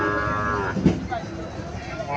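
A cow at the Chandimura cattle market in Comilla gives a loud, close, drawn-out moo that fades into general market background noise.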